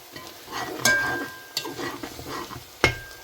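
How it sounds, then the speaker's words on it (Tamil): Onions tempering in hot oil in a pan for a mixed vegetable curry, a soft crackling sizzle with several sharp metal clinks of a stirring spoon against the pan, close and alone. "பாருங்க வெங்காயம் வந்து நல்லா தாளிச்சிட்டுது"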